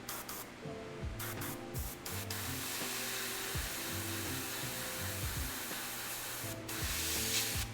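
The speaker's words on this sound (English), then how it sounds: "My airbrush is being odd. It's probably because I'm just leaving it spraying so much." Continuous airbrush spray hissing loudly and steadily at close range while paint goes onto a miniature, with a low mechanical hum underneath and brief dips where the flow is interrupted.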